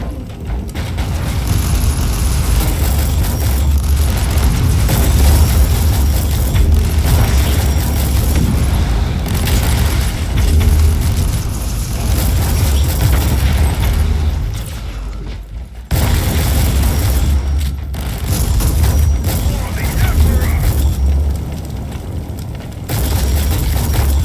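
Booming explosions and mechanical clatter from a turret being destroyed in the video game Warhammer 40K Inquisitor, loud and dense almost throughout, with a brief drop near sixteen seconds before the heavy combat noise resumes.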